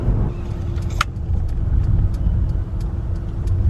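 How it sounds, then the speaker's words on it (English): A car rolls slowly into a car wash with a steady low engine and road rumble, a faint tonal hum and a few light clicks and knocks overhead, and no talking. "Right now, I'm just driving into the car wash because my car is an absolute mess."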